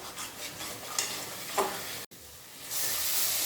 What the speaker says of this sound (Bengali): মশলাটাকে এবার ভালোভাবে কষাবো।